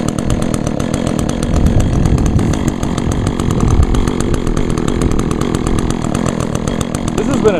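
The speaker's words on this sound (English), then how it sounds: "This has been an excellent chainsaw." An Echo chainsaw running on ethanol-free fuel roars loudly and steadily up close, its engine buzzing with an even, continuous rattle throughout.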